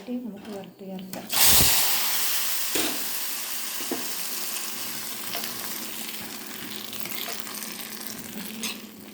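Grated coconut roasting in a pan crackles and sizzles continuously, with a loud burst of hiss early on and occasional stirring scrapes, while a voice talks over it.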